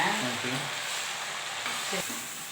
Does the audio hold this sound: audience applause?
no